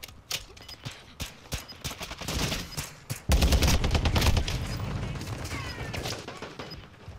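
Gunfire from the Call of Duty video game, a dense, ragged fusillade of rapid shots that grows into a loud sustained burst of automatic fire partway through.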